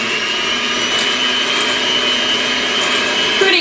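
Electric hand mixer blending cookie ingredients, a loud, continuous motor whir with a steady pitch, close and uninterrupted for the whole stretch with a slight change at the very end.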